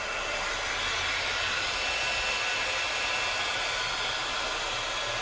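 A heat tool blows hot air steadily onto chunky embossing enamel, a loud continuous rushing whoosh that holds even and close throughout with no pauses or voices.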